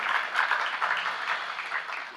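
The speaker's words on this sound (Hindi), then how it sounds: "ताली के माध्यम से आपने समर्थन किया" An audience claps in support during a Jain religious sermon, a steady wash of many hands that holds evenly throughout at moderate, somewhat distant volume with no talking over it.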